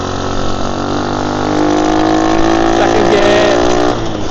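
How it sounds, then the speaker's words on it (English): A 50cc monkey bike engine labours steadily uphill, its buzzing drone holding a constant close, loud level and rising slightly in pitch partway through. "this bike won't want to get up there, because it's only a 50cc"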